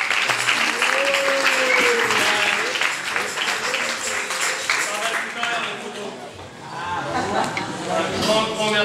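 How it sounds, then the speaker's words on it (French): An audience at a capoeira gathering applauds students, a sustained clapping that runs beneath people talking and calling out throughout. "Vous pouvez les applaudir bien fort"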